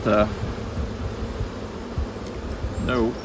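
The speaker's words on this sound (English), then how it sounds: "there's a lot of bees on these outer combs" A steady honeybee drone hums throughout from bees on the outer combs of a hive, dense and continuous at close range, with brief voice sounds at the start and end.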